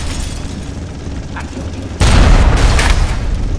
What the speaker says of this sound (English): He's about to shoot a lead head.